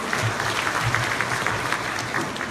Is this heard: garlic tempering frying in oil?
no